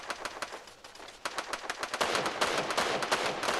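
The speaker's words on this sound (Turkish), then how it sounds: "ne taraftan sıkıyorlar?" Rapid automatic gunfire in the Free Fire mobile battle game, dense rattling bursts of shots that grow louder and more continuous toward the end.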